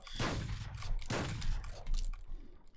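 Shotgun blasts in the video game Valorant, two heavy booming shots about a second apart, each with a rough decaying tail, followed by softer mechanical clacks.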